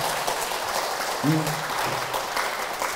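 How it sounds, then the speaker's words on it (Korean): Applause from an audience at a meditation expo talk in Seoul fills the clip as a steady wash of claps, with a brief voiced exclamation rising partway through. "박수!"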